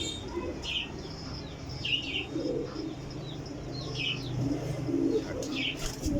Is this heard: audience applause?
no